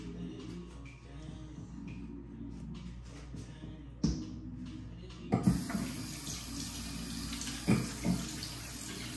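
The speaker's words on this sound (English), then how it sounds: "I'm gonna wash my face right now." Tap water runs into a bathroom sink while someone washes their face, a steady close splashing hiss with louder splashes as hands hit the stream; no talking.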